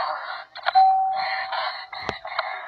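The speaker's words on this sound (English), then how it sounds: "Why was there a doorbell," Doorbell chiming indoors, a few moderately loud electronic tones ringing over a couple of seconds with brief clicks and knocks between them.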